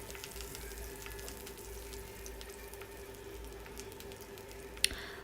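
Cumin, dried chillies, chopped garlic and curry leaves fry in hot peanut oil with a steady, fairly quiet sizzle, with one small tick near the end and no talking.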